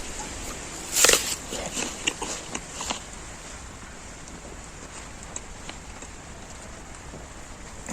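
A crunchy bite into a Sweet Caroline apple with dense flesh gives one sharp, close crack near the start, followed by a few faint chewing crunches and then quiet.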